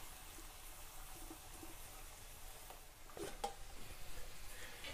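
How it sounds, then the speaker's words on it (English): Red juice being poured off a cooking pot of red potatoes, a steady liquid pour that swells and gushes briefly near the end, heard alone at moderate level. "I'm just going to pour off the red juice."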